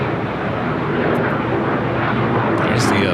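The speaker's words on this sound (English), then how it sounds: "There's the flight coming in from Newark." At LAX airport a plane arriving from Newark roars overhead as a loud, steady, broadband jet rumble filling the whole moment, with a person talking over it.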